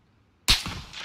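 A single sharp sniper rifle shot cracks out in PUBG gameplay after near silence, followed by a short decaying tail.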